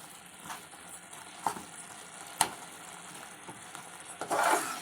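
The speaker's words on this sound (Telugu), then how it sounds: "ఇప్పుడు చూడండి బాగా ఉడుకుతుంది. ఇదంతా బెల్లం అంతా కరిగిపోయింది." Carrot halwa with melted jaggery cooking in a pan, a soft steady sizzle with a few louder scrapes and knocks as a spoon stirs it close by.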